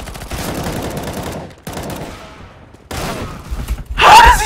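Gunfire from a CS:GO match crackles in rapid bursts of shots, loud and close, broken by short gaps and ending in a heavy, distorted blast.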